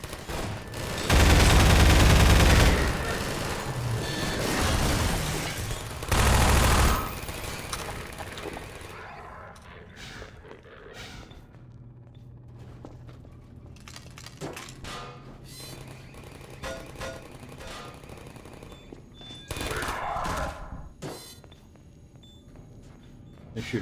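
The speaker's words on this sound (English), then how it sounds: "They're shooting turret." Turrets fire in Half-Life 2, with loud bursts of rapid automatic gunfire early on. Quieter mechanical clanks and scattered shots follow under a faint steady hum, and a few sharp impacts come near the end.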